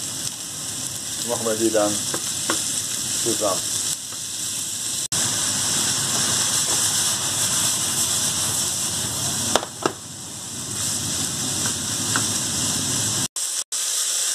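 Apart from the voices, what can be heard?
minced lamb frying in a pan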